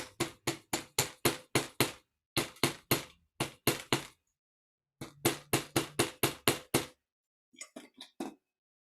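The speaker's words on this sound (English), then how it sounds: "I'm using a chasing hammer" A chasing hammer texturing a wire pin gives sharp, close metallic taps in quick bursts of five to eight blows, separated by short pauses, ending with a few lighter strikes.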